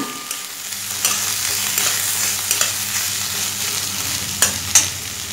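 Lunch cooking in a pan, stirred and fried over the heat: a continuous close sizzle broken by repeated scraping strokes, with a couple of sharper clinks toward the end.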